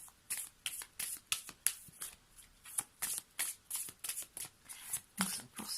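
Oracle cards being shuffled by hand at a tarot-style reading, giving a quiet, crisp run of rapid riffling flicks in short repeated bursts, heard close and alone.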